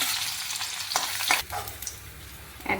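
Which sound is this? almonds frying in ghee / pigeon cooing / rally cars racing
almonds frying in ghee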